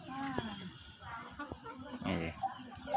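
A chicken in a cage gives a few short clucks close by, mixed with rattling and handling noises and a person talking over them.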